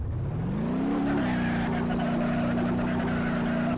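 A car engine in the crash-test driving simulator The DRIVE revs up steadily and then holds a constant drone while driving, loud and close, with no talk over it.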